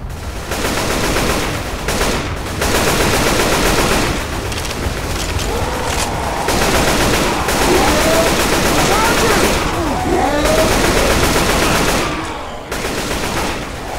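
Sustained automatic gunfire fills a Left 4 Dead 2 survival round at a church, loud, dense and nearly unbroken bursts with booms mixed in, while players talk over the shooting.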